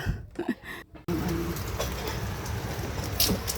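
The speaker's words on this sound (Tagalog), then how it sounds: "Ang lakas ng ulan!" Heavy rain pours down outside, steady and broadband, loud enough to leak through a ceiling into a bucket. It begins abruptly after a moment of quieter, choppy sound and then holds as a constant dense hiss.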